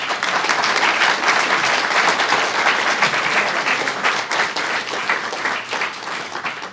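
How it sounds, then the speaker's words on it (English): An audience at a poetry reading applauds warmly, a sustained, loud wash of many hands clapping that holds steady before easing slightly toward the end. "Another round of applause for Jewel Gomez."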